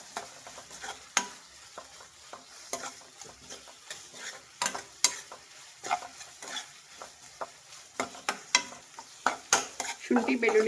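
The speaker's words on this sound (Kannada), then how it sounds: "ಇದು ಹಸಿ ವಾಸನೆ ಹೋಗೋವರೆಗೂ ಫ್ರೈ ಮಾಡಬೇಕು. ಮೀಡಿಯಮ್ ಉರಿಲೇ ಇಟ್ಟು ಫ್ರೈ ಮಾಡಿ" Ginger garlic paste frying on medium heat with onions in a pan, a soft sizzle under frequent sharp spatula scrapes and taps against the pan, close and uneven in rhythm, no voices.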